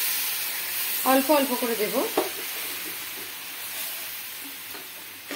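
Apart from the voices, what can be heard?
water poured into roasting besan for halwa, sizzling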